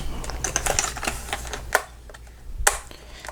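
Fingers type on a Leopold FC660C Topre keyboard with quick, uneven keystrokes. Two louder, sharper strikes stand out, and no one speaks.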